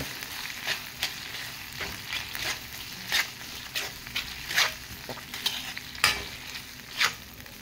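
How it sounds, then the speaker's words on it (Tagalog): Corned beef and potatoes are stirred in a frying pan, a steady sizzle broken by repeated scraping strokes of the spatula at an irregular rhythm, close and without talk. "Haluin na natin para"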